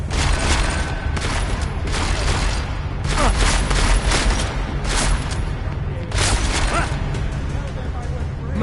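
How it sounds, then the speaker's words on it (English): Gunfire in Deus Ex: Mankind Divided comes as loud, rapid bursts of shots and heavy booms that repeat throughout, with a voice mixed in. "I'm gonna shoot him in the"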